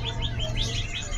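A young fledgling songbird of unidentified species at a bird seller's stall chirps in quick repeated bursts over a steady low hum.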